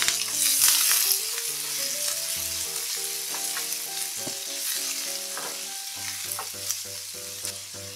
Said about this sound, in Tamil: அடுத்ததான் வெங்காயம் போட்டுக்கோங்க